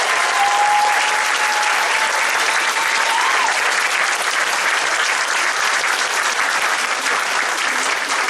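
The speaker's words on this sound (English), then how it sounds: "So I'd really like to make a very generous round of applause for all these amazing young people" Sustained, dense audience applause at a school orchestra concert, steady and loud throughout with no talk over it.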